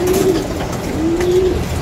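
Pigeons cooing nearby, two drawn-out coos with a low, rolling hum over a steady background.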